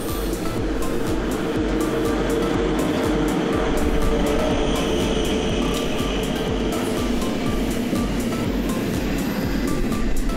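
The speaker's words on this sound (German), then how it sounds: "das ist der Zug nach Basel dann" A passenger train bound for Basel rumbles steadily from nearby with a continuous low roll and rhythmic rail clatter, and no talking is heard.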